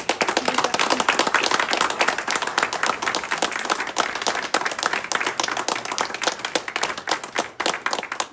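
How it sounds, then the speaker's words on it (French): Audience at a spring art exhibition opening in Sergines applauds the exhibitors with dense, sustained clapping from many hands, loud and steady throughout. "Et on applaudit tous les exposants."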